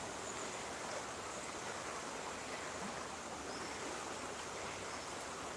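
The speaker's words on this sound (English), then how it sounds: "this is the Ogmore River going through Newbridge Fields" Ogmore River flowing through Newbridge Fields, a steady, even broadband rush of moving water, faint and continuous with no other sounds.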